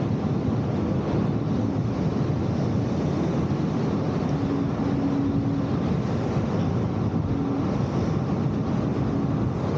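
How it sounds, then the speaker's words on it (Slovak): Strong wind buffets a new microphone outdoors on a road toward Bratislava, a constant loud low rumble filling the whole stretch with faint tonal hums drifting in and out. "tu je vetrisko jak blázon"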